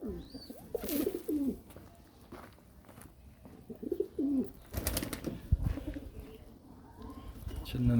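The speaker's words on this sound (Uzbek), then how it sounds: "Mana kaptar." Pigeons coo close by in several soft, throaty rounds, with rustling and movement around them and a voice talking in between.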